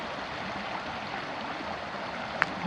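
A creek at Sherando Lake campground in the Blue Ridge Mountains of Virginia flows with a steady, even rushing wash, moderately close, with no talk over it.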